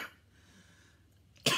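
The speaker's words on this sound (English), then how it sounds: "Figures, I start coughing as soon as I get on video." A single loud cough bursts out at the very end, after a stretch of quiet room tone with faint background hum.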